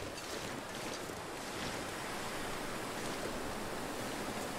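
Wind gusts through a snowy survival video game (The Long Dark) as a loud, continuous broadband roar and hiss, with no speech over it.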